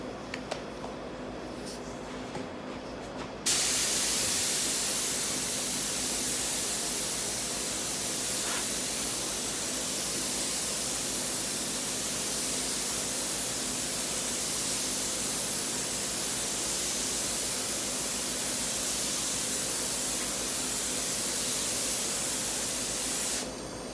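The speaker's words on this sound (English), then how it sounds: "I'll just show you how we're spraying now" A spray gun applies primer to a wooden sideboard, a steady close hiss of atomized spray that starts after a few seconds of quiet and runs evenly and continuously to the end.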